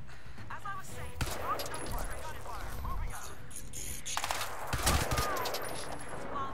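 Enemy soldiers fire guns in the shooter game Crysis 2, sharp bursts and scattered shots crackling amid a busy combat soundscape, with the loudest volleys near the end.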